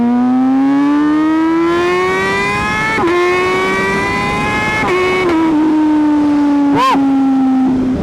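Revving engine of an MV Agusta Brutale motorcycle fitted with a new titanium exhaust, loud and close, rising steadily in pitch through several long pulls with brief gear changes and a short sharp blip near the end.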